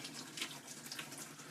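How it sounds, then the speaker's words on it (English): Water drains from a bowl of shredded baking potatoes into a sink, a steady hissing splash with gentle bursts of spattering, fairly faint and close by. "So I'm draining the water out."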